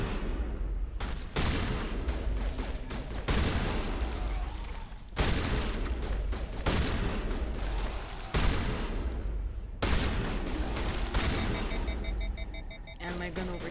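Heavy gunfire from the Mass Effect video game, with repeated booming bursts and sustained volleys of shots that stop briefly and start again, loud and close. Some faint game ambience sits underneath.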